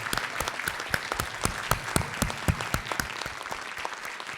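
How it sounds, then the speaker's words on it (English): An audience in a lecture hall claps steadily for several seconds, the applause fairly close and continuous with distinct individual claps throughout, thinning slightly toward the end. "I just want to ask you all for another round of applause"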